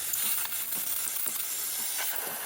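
Steady hiss of steam jetting from the steam wand of a Breville BES870XL espresso machine after water damage repair, continuous and fairly loud with faint clicks through it.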